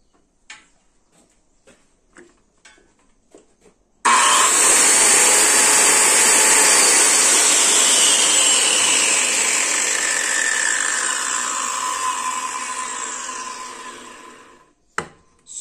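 A Makita 5007MG circular saw, which has no brake, switched on after a few light clicks and whining loudly at full speed without cutting, then spinning down slowly over several seconds until it stops, followed by a final click.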